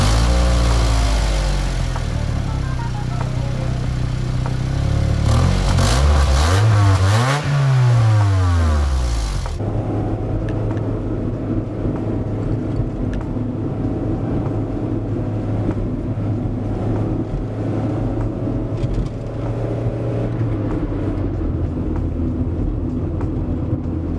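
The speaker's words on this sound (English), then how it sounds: "Here's a warm start and some revving." A 90s Honda Prelude engine starts warm and is revved, rising and falling in several sharp sweeps, then settles into a steady, loud idle that drones on alone.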